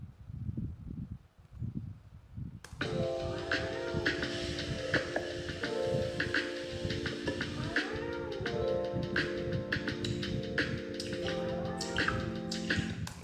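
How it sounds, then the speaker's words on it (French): A pet cat meows, the sound laid into a video edit: a quiet start, then several drawn-out meows over a steady tonal backing. "Et le miaulement de mon chat, je vais le mettre à différents endroits sur ma vidéo"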